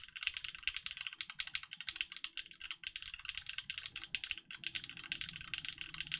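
Fingers type quickly on an Oblique mechanical keyboard built with Onyx and Alu parts, producing dense, close, crisp key clacks in an uneven continuous rhythm with no talk.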